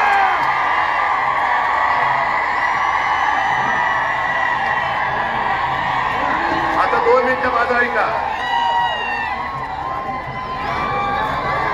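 A large crowd at an open-air political rally in Dharashiv cheers and shouts loudly beneath an amplified speech, with a burst of whoops near the end.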